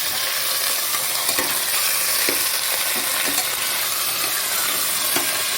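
Crushed spices stirred into mutton roganjosh as it fries, with a steady loud sizzle and occasional clicks of a spoon against the pan.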